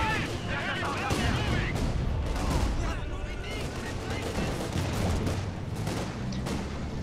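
Dense gunfire and heavy artillery booms from a Company of Heroes 2 battle rattle on steadily throughout, mixed with a voice talking over the action.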